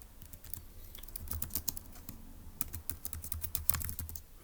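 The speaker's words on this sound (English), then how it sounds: "let's go ahead and type that up in our notes for section D" Steady typing on a computer keyboard while notes are written up for a logic puzzle: quiet, rapid clicking in uneven bursts with brief pauses and no speech.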